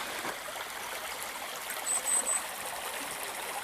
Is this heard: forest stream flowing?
yes